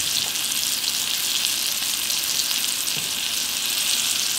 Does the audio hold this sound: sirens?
no